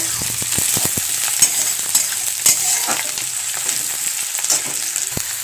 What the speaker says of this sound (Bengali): দেখো পেঁয়াজগুলো কিন্তু ভাজা হয়ে গেছে